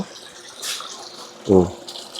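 Water is poured into a fish container, a short splashing gush under ambient noise, with a brief voice heard.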